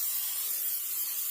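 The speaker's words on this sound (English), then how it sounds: "Spray a little oil in there." Cooking oil sprayed from a can into a Delonghi air fryer basket, heard as a steady, close airy hiss lasting just over a second, alone with no talk.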